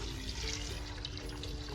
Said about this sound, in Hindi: आधा किलो चनों में 1 किलो पानी डाला है